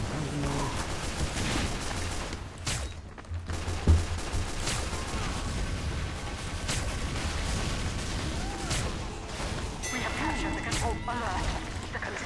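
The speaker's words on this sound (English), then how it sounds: "That was a lot of ammunition coming at once." Heavy incoming gunfire in Team Fortress 2, a dense barrage of shots and impacts with a loud thump near the middle, while a person talks over the chaos.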